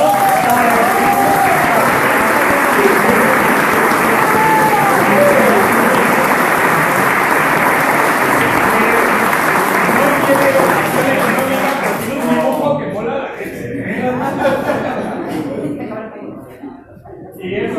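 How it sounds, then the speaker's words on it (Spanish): Loud audience applause and cheering at a homebrew competition awards ceremony for the best-style winner, a thick crowd roar with some laughter that fades and thins near the end. "así que un fuerte aplauso para"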